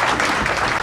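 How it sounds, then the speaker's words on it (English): A short burst of crowd applause at a new student welcome in an engineering college hall, a loud, dense clatter of many hands filling the whole moment. "Please give a big round of applause for Director Sir."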